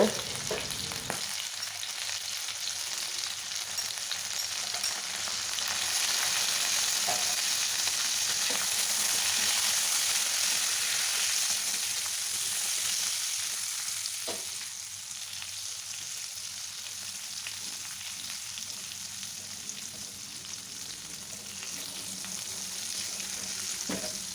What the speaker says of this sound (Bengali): এবার একটু নুন হলুদ দিয়ে পটলগুলোকে হালকা করে ভেজে নেব